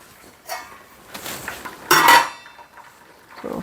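A metal lid knocks and clinks against a soup pot of simmering cream of leek vegetable soup as it is set partly in place. A few light taps lead up to one sharp clatter in the middle, then quieter handling sounds, with no talk.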